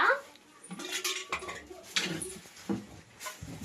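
A pot of fish curry being set down on a stove, with a few close metallic clanks and scrapes of the vessel against the burner, alongside faint low voices in the room.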